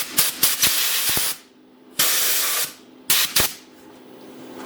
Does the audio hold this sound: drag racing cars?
no